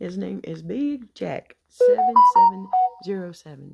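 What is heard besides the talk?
phone ringing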